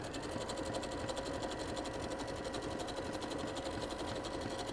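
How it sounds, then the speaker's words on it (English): Sewing machine running steadily through fabric, a fast even mechanical rattle of stitching that stays continuous and fairly quiet, with no voices. "Because I'm not pushing all that fabric through the machine."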